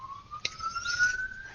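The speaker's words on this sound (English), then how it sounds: "Oh, we got sirens coming down the highway." An emergency vehicle siren wails along a highway, heard from a distance as a steady rising tone with no one talking over it.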